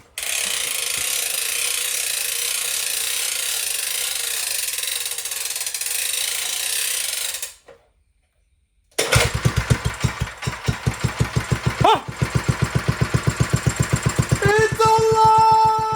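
A 1950s tiller engine fitted with a Mikuni carburetor: loud ratcheting pull-start cranking, a brief silence, then the engine catches and chugs into a rapid, even idle, with a short spoken word.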